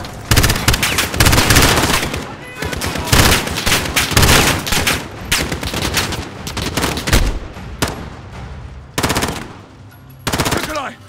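Heavy gunfire in Call of Duty Modern Warfare, loud rapid automatic bursts and single shots in close succession with brief pauses, mixed with game voices and action sounds.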